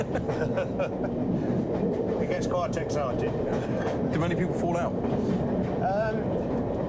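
A train runs on rails with a steady clickety-clack and constant rumbling roar throughout, loud and close as if from inside the carriage, with people talking over it.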